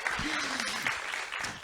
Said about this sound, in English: Can I get like a round of applause